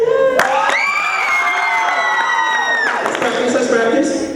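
An audience at a poetry reading bursts into loud cheering, whoops and clapping, a dense close crowd roar with high shrieking voices sustained throughout.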